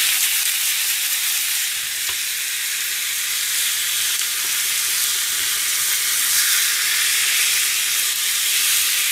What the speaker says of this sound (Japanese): で、焼き目を入れます。